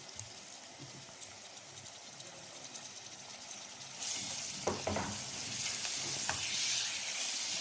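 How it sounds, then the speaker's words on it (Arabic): Chopped chicken gizzards sizzle with softened onion in a pan, a steady crackling fry that grows louder and brighter partway through, with a few sharp clinks and stirring noises. "البصله دبلت، احط معاها القوانص"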